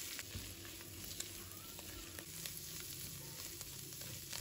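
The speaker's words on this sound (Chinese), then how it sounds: "把咸菜放入锅中，继续炒至断生" Pickled mustard greens sizzle in a wok with oil, ginger and garlic as they are stir-fried, giving a steady, moderately quiet frying hiss with occasional scrape and clink of the spatula.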